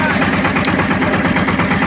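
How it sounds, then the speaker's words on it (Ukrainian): A Shifeng 244 tractor engine labors steadily at close range while it drags a young walnut sapling out of partly dug soil, with a continuous rumbling drone and a regular pulsing beat. "Отак чуть-чуть підкопуємо і трактором підтягаємо."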